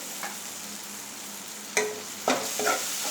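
Biryani masala frying in a pan as ginger paste goes in, a steady soft sizzle broken by a few sharp scraping stirs of a spoon against the pan, close and with no talking.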